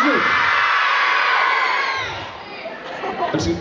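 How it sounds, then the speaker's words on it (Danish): School talent show audience screaming and cheering, a loud, dense burst of many young voices shrieking at once that gradually fades, then a few scattered shouts rise again near the end. "I skal simpelthen skrige jeres lunger ud den her gang"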